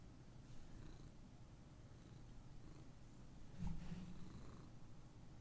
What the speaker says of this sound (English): you can hear the cat purrs